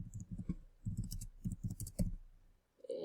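Several quick computer mouse clicks in short clustered bursts, close and fairly quiet, with brief pauses between groups and no talking.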